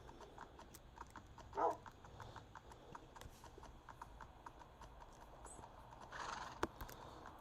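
Steady clip-clop of horse hooves trotting at an even rhythm in modded Minecraft, faint and continuous, with a brief snort or whinny partway through.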